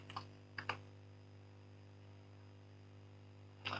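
Typing on a computer keyboard, with a few quick clustered key clicks at the start and another short burst at the end, fairly faint over a steady electrical hum.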